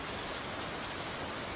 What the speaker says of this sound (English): I just opened this video for the rain sound effect